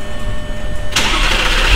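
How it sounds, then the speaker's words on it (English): An Audi R8 with an R-tronic gearbox fires up after a clutch replacement: a brief quiet lead-in, then a loud starter catch and the engine bursting into a strong, close idle. "Start the engine."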